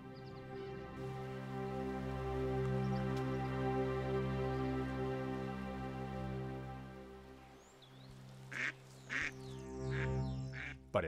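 Ducks quack in a steady, overlapping chorus, fairly loud and continuous, with a few sharper calls near the end.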